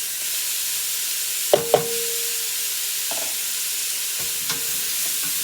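Ham goes into a pan of fresh green beans already frying, giving a steady hiss with a few sharp clinks and scrapes of stirring near the start and middle.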